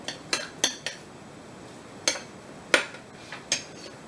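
Soy sauce and half a tablespoon of pure sesame oil stirred together in a dish, a utensil clinking against it in several sharp, irregular taps, close and fairly quiet, with no talking.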